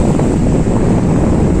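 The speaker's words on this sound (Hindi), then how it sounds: "देखो यार कितनी तेज है पानी का" Fast-flowing river water rushes past at the Culi river in Tonk, a loud, steady broadband roar that fills the whole moment without letup.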